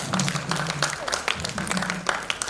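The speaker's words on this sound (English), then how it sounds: "Students, it's time to clap for your teacher" Students clap for their teacher at a COSPRA Summit 2023 ceremony, scattered and fairly light, with distinct individual claps over a low murmur of voices in the hall.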